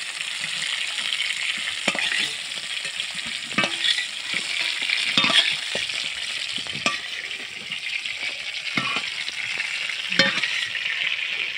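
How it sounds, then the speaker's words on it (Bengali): Cauliflower florets lightly fried in a pan as a first fry before a second frying, for a shrimp curry with beans. A steady close sizzle runs throughout, broken by sharp scraping clicks from stirring. "হালকা করে ভেজে নিচ্ছি, কারণ দ্বিতীয়বার আবার ভাজবো।"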